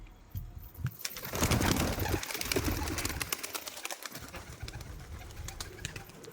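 A pigeon near a house gives soft, low coos amid surrounding bustle and rustling, with a louder burst of noise early on and no clear speech.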